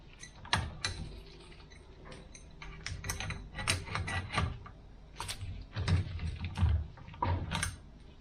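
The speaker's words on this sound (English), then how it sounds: "Screw her on." A metal part is screwed by hand onto a mini milling machine during a repair, giving irregular clicking, ticking and scraping of threads and metal parts, close and fairly quiet with no talking.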